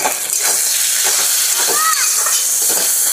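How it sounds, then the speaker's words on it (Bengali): Chopped ginger, garlic and green chilli fry in a pan with a loud, steady sizzling hiss that runs throughout, with faint stirring scrapes underneath. "আদা রসুন কুচি কাঁচা লঙ্কা ভালো করে ভেজে নিছি।"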